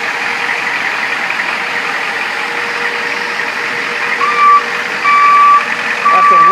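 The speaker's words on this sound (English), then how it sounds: "Gonna roll this car forward for you." A 1991 Ford F-450 Super Duty chassis cab, a former police paddy wagon, idles with a steady engine drone as it starts rolling, and short high beeps sound over it near the end.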